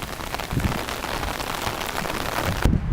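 Steady rain pours down, a dense broadband patter of drops hitting a surface, continuous and fairly loud throughout, cutting off abruptly near the end.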